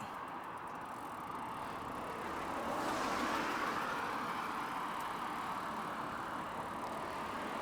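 A car passes on the road during an e-bike ride. A broad rushing swell rises and lingers over steady wind and road noise.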